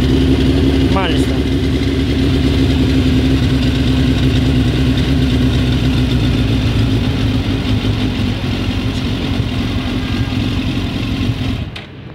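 A 2005 Suzuki GSX-R 1000 K5 sport motorcycle engine runs loud and close at a steady, lumpy idle throughout, with people talking over it, before cutting off near the end.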